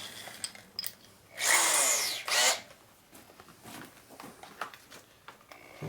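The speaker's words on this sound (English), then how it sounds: "Some quick deburring." A power drill deburring a machined fork part for a 2008 Buell Blast trials bike conversion, two short loud whirring bursts separated by a pause, amid quieter workshop clicks and scrapes.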